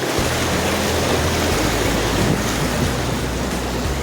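A mountain river on the Kareri Lake trek in Himachal Pradesh rushes over rocks, a loud, continuous broadband roar close by with no pauses and no voices.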